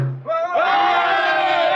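A crowd roars and cheers loudly at the Tyburn gallows in old London, staged as a radio play effect. Many voices swell into one sustained, rousing cheer.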